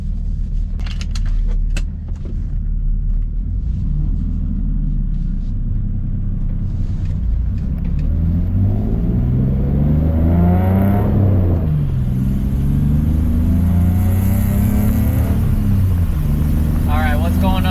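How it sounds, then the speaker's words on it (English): A 1989 BMW 325iS E30 engine rumbles steadily, then revs and accelerates with rising, sweeping pitch, loud and close throughout, on winter back roads. "this is my 1989 BMW 325 IS E30"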